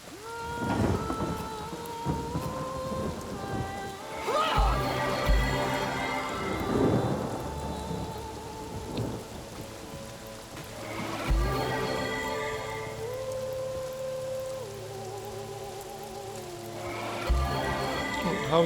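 Rain and thunder in the video game Divinity: Original Sin, with heavy low thunder bursts recurring over a bed of rain, mixed with game music and other effects, loud and busy throughout.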